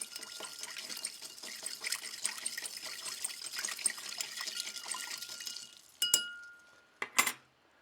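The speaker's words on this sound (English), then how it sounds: "Give that a nice stir." A bourbon cocktail with lemon is stirred in a glass, with a busy, continuous clinking of ice and liquid swirling close by, then a few separate sharp glass clinks as it settles.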